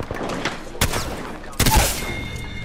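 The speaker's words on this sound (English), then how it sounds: "Getting shot at." Apex Legends firefight with bursts of gunfire: two big loud blasts among scattered crackling shots and game effects, close and intense, with no voice on top.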